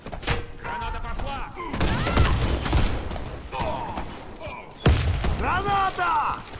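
Grenade blasts go off, giving sharp loud thumps and bursts that cut through shouting voices, with a strong hit near the middle and a rough, busy background of noise.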